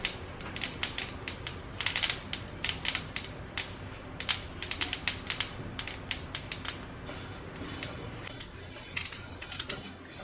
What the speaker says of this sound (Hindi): जब ये रोस्ट हो जाएगी तो देखिए इस तरह से क्रैकल होगी।